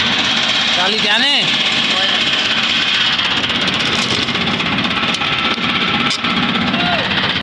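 A tractor with a trailer idles steadily nearby, its engine chugging in an even low rumble throughout while people talk over it.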